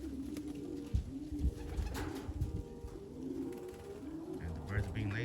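Racing pigeons coo softly and repeatedly nearby in a low, murmuring rhythm, mixed with faint background bustle and a few thumps.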